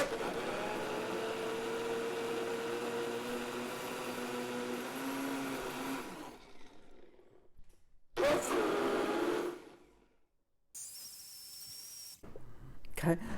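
A discount-store blender whose motor turns in reverse runs with a steady, loud whirring hum for about six seconds, then cuts out and restarts in short bursts separated by silence.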